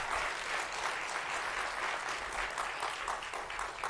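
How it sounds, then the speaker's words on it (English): Steady, fairly faint applause from the audience at a school board of education meeting, a continuous wash of many hands clapping together, with no talk over it. "You can clap it up."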